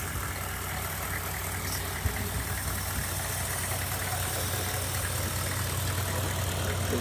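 A 1994 GMC Yukon two-door with a 6.5L turbo diesel idles steadily and close by, giving a low, even rumble with a constant hum and no change in rhythm.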